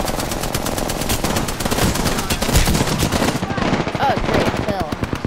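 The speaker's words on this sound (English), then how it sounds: "Oh great, they're shooting at me." Sustained automatic gunfire from the Apex Legends video game, rapid bursts rattling continuously and loudly throughout, with a brief voice murmuring underneath.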